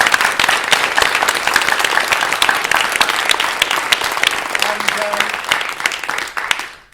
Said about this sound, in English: one more round of applause for all of your directors and performers